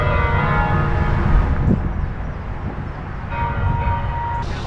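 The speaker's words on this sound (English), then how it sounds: "You can hear the church bells ringing at the chapel" Chapel church bells ringing at Spring Grove Cemetery in Cincinnati, heard outdoors as a loud, continuous ringing wash with sustained tones that carry through the whole stretch.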